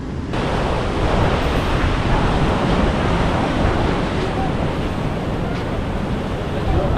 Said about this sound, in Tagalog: ganda sa tenga nung ano, ganda sa tenga nung alon.